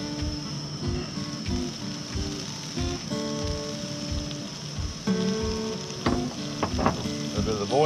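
Butter and sauce sizzle and spatter in a hot pan during truck camping, steady close frying crackle with stirring knocks and clinks throughout.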